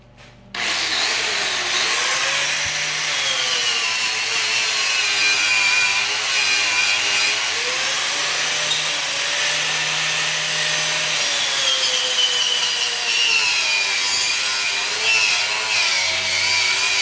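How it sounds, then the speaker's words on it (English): Angle grinder grinding slag off welds on a trailer being built, starting abruptly and then running as a loud, continuous, harsh abrasive whine for a long stretch. "Let's use our grinder and grind off the slag"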